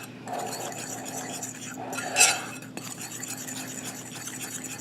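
A fork mixes dry cake ingredients, flour with baking powder, in a bowl for a caramelized apple upside-down cake: soft, close scraping and stirring with one brighter clink partway through.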